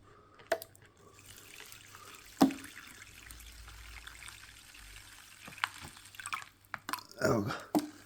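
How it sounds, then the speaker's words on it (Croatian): Water pours into a container in short trickles and drips, a sharp splash near the start and a louder burst of pouring toward the end, heard close and fairly faint. "Ajmo dodati vodu, znači do ove razine ovdje."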